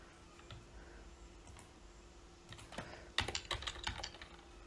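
Quiet typing on a computer keyboard, scattered soft keystrokes at first, then a quicker burst of clacks toward the end, close and alone.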